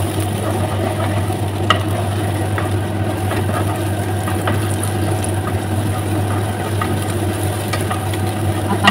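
Cabbage and egg stirred in a hot frying pan, steady sizzling with intermittent scraping clicks of the utensil and a constant low hum underneath.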